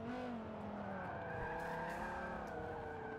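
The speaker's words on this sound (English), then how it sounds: "Massive understeer induced by panic slamming of brakes." Car tires squealing and skidding under hard braking in Forza Motorsport 7, a sustained wavering screech with pitch slides layered over a steady engine note.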